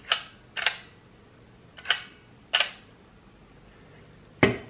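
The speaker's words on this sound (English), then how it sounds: "now you must lift the finder to the shutter to operate" Five sharp mechanical clicks from the shutter of a Zeiss Ikon Baby Box Tengor camera, spaced irregularly with quiet gaps between, close and crisp.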